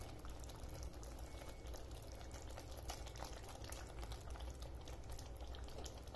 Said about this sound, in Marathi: ग्रेव्हीला छान उकळी आली